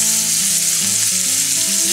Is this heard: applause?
no